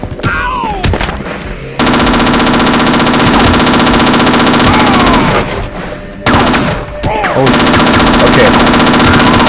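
Sustained automatic gunfire in Half-Life: Opposing Force, loud and dense, broken by two short pauses, with a brief spoken remark near the start.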